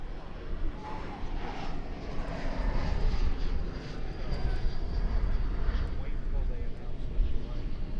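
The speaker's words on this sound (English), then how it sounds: "we're going to watch this flight coming in from San Francisco" A jet airliner inbound from San Francisco on approach to DFW Airport on an August evening, its engine roar broad and steady, swelling slightly in the middle of the pass, with wind rumble and faint voices underneath.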